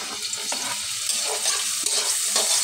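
Garlic sautéing in a pan without onion, a steady close hiss of sizzling oil broken by a few scraping stirs, with no talk.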